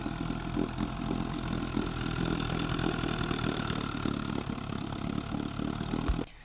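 Old Johnson Evinrude outboard boat engine running steadily after a fuel pump conversion, a continuous loud droning hum that cuts off abruptly near the end.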